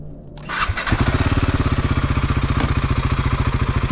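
A Royal Enfield Himalayan 450 motorcycle starts after a brief crank, then settles into a steady, loud, close-up idle with an even rapid thumping beat.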